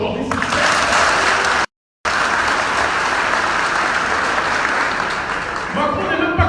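A crowd at a political speech event applauds loudly and continuously, with a brief cut to silence partway through, then the clapping resumes and carries on to the end.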